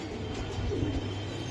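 Giribaj pigeons coo softly with low, rolling throaty calls, close by and alone, over a brief stretch.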